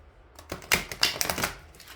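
Oracle cards being drawn and shuffled by hand, a quick burst of crisp clicking, flicking card slaps after a brief quiet start, close and fairly loud, with no talking.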